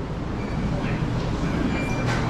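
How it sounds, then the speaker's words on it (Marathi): An Amtrak long-distance train in downtown Chicago gives a steady, close, dense rumble with rolling low-end noise that continues without a break. "ॲमट्रॅक जे आहे ना ते मोठी ट्रेन, म्हणजे दूरवर जाणाऱ्या ट्रेन्स."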